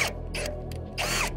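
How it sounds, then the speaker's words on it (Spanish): A power drill bores holes in a 4 mm steel plate, short whining bursts starting and stopping close by, with brief pauses between them. "taladré"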